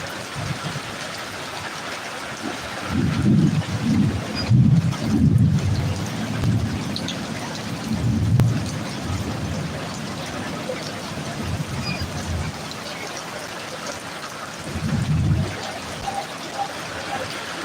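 Rain pours with a steady hiss, while low rolls of thunder rumble in several bursts, heavier early on and again near the end.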